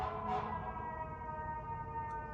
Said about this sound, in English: And then the sirens stop.